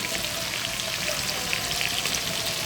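Pieces of desi chicken frying in hot oil, a steady even sizzle and crackle with no talk.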